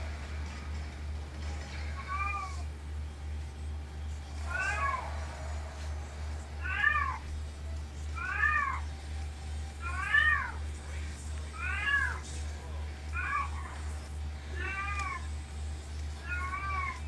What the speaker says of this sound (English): That cat needs you, Alan.